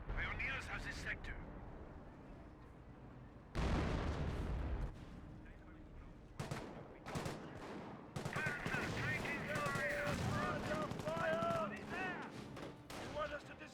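Battlefield combat in Company of Heroes with British 25-pounder artillery: heavy booms and bursts of rifle and machine-gun fire come in irregular waves, some blasts loud and close, others distant, with occasional game voice lines.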